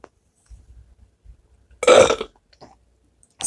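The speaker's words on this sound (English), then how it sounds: "Sorry, I burped." A single loud, close burp erupts from a person mid-stream, a short raspy belch surrounded by faint quiet rustles.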